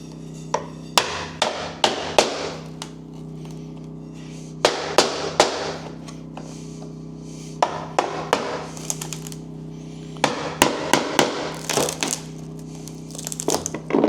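Sharp tapping strikes in irregular bursts, several quick hits then pauses, close by, a hammer driving a chisel into a wooden window frame.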